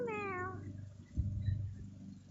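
A house cat lets out a single drawn-out meow that falls in pitch, followed by a short softer grumbling vocalization, close and clear with no talking.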